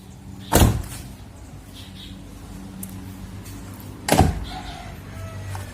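Truck door on an Isuzu Elf Long with Adi Putro body, shut twice with two solid thunks about three and a half seconds apart, close and fairly loud over a quiet background.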